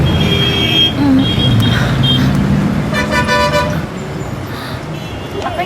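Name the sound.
road traffic with car horns honking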